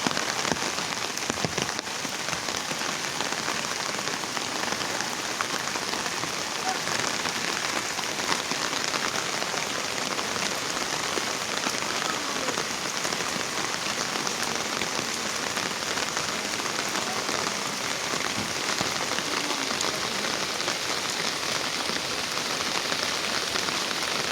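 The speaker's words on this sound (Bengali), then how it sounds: "দেখো বাইরে কি বৃষ্টি পড়তেছে" Steady rain falls on a surface during flooding, a dense, even patter that continues unbroken throughout with no voices.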